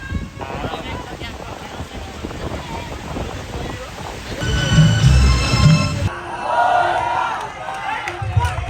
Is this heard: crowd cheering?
yes